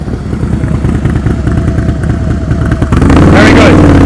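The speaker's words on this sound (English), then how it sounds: "See how his motorcycle sounds when he starts? It stays loud." A motorcycle engine runs steadily during slow-speed riding practice, with a voice talking over it. It rises to a louder, fuller rev near the end.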